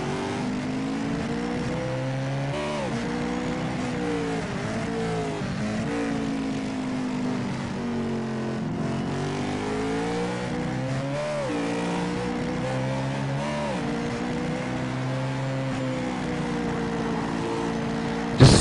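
Race car lapping Infineon Raceway, its engine note rising and falling steadily through gear changes and corners, loud and continuous with no voices over it.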